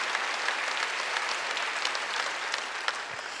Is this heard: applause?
yes